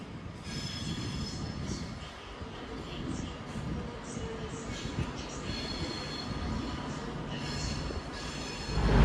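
Train pulling into Manchester Piccadilly station, a loud sustained rumble of wheels and carriages with high squealing brakes and rail screech layered over it, swelling toward the end.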